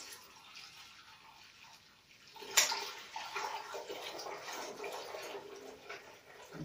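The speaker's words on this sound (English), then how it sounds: "And then you just pour it out like this." Water poured out of a sensory bubble tube during cleaning, a sudden splash after two seconds of quiet, then a continuous gushing pour that fades slightly, heard nearby.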